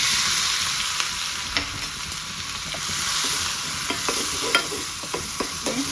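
Mustard seeds, asafoetida and ginger-chilli paste sizzle in a little hot oil, giving a steady bright hiss broken by sharp pops and crackles, close and fairly loud, with no voices.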